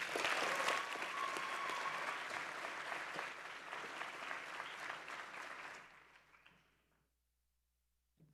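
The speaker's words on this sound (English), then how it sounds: "I know you have clapped 51 times plus all of the thank yous" An audience at a university senior honors ceremony breaks into loud, sustained applause, dense and close. It tapers off and fades to silence near the end.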